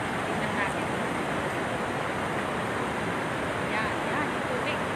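Rushing floodwater released from Magat Dam during a typhoon, a loud steady broadband roar with wind buffeting the microphone, continuous for several seconds.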